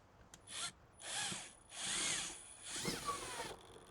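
Screws being power-driven while a transit shelf is installed, heard as several short whirring bursts of a drill or driver with ratcheting buzz, close up and without talk.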